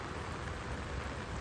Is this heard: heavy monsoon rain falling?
yes